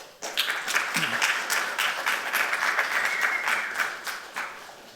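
A crowd claps for a startup pitch at a showcase event, with steady applause rising quickly and holding at moderate volume before tapering off, plus a faint murmur underneath.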